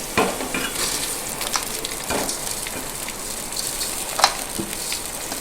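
Steady crackling sizzle of rice frying in hot ghee with raisins, with a few sharper scraping clicks from stirring; no voices.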